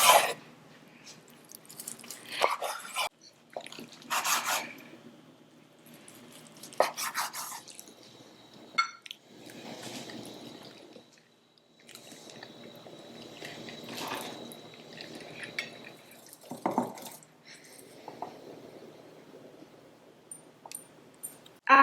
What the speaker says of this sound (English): I'm going to start slicing my ribs. So cut between the bones